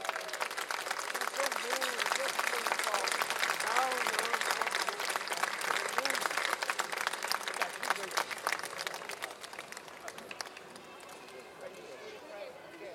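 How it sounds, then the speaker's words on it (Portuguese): A festival crowd applauds a Galician folk dance group at the Festa das Cruzes in Barcelos, a dense, sustained clapping that holds steady and then thins slightly toward the end, with faint voices underneath. "Palmas para eles,"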